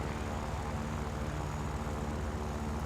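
Droning aircraft engine of a propeller warplane in the War Thunder flight game, heading out to bomb a runway alongside a BF-109E; a steady, loud engine hum with a low rumble runs without a break, and there is no talk.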